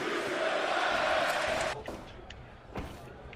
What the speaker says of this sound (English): Crowd getting real involved in this one.